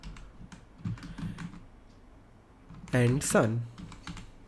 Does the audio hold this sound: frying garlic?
no